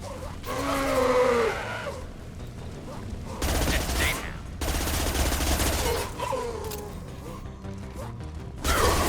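Gunfire in Mass Effect 2 combat: sharp bursts of shots and impacts in several loud clusters, alongside in-game voices and effects.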